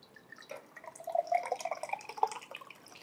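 Water is poured into a container while a lemon liver detox drink is being prepared, producing a short, faint, bubbling trickle with glugging drips close by and no talking.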